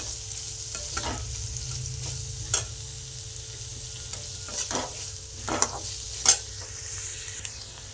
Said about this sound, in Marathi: चांगला लाल होईपर्यंत भाजून घ्यायचा आहे कांदा आणि खोबरं